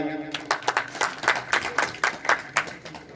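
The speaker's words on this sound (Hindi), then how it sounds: "सर के लिए जोरदार तालियां" Audience in India gives a round of applause at a newspaper's 100K-follower celebration, a burst of rapid, uneven clapping from a modest crowd lasting a few seconds, with a voice underneath.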